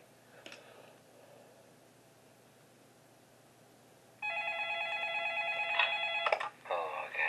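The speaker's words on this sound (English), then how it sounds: "Okay, why can't I mute the phone call?" An in-game phone call rings in Five Nights At Smudger's Remastered, Night 5. After a few seconds of near silence with faint clicks, a loud, insistent electronic ringing starts and continues to the end.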